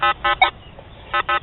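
A Legend metal detector with a 15 DT coil, sweeping over iron nails in mineralized ground, gives short electronic chirps: two quick beeps, a brief pause, then two more.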